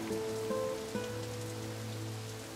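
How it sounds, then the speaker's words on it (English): Steady rain falling on surfaces in the adventure game The Dark Eye: Chains of Satinav, a continuous hiss under soft low tonal music with no voices. "It must rain here quite frequently, I guess."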